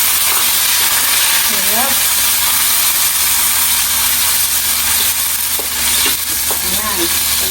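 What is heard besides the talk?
garlic and onion frying in a pan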